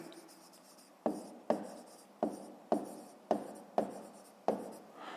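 A pen writes in a notebook during a fifth-grade math exercise: seven short, quiet scratching strokes, close by, spaced in a fairly regular rhythm with near silence between them.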